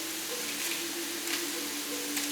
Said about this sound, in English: put it in the frying pan here, and you hear it already starting to sizzle